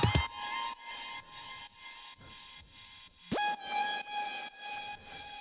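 An unfiltered sawtooth synth lead, bright and buzzy, holding sustained tones over a steady pulsing beat of regular hits, with a sharp pitch swoop midway, loud and upfront with no talk.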